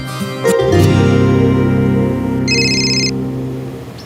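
An incoming call sets a phone ringing in a short high electronic burst, heard faintly over steady background music.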